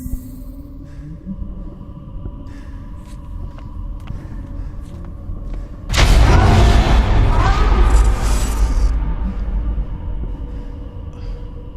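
A tram in the video game STASIS, a low mechanical hum that gives way to a sudden loud rumbling roar of the car moving along, heavy and sustained before gradually easing.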